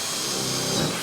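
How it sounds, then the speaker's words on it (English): Power drill boring pilot holes through sheet material for rivets, a single steady close whirring burst with no talk. "So we're going to pre-drill them."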